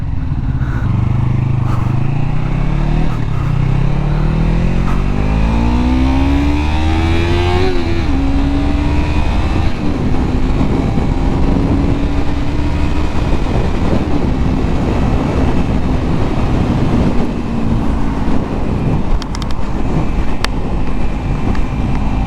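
Steady motorcycle engine hum at moderate street cruising speed, with the pitch rising through gears early on, under constant wind rush against the microphone.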